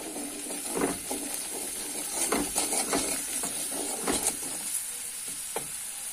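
Ground spices and salt being stirred and fried in a pan, with a soft steady sizzle and repeated scraping and clinking of a spoon against the metal, close and fairly quiet.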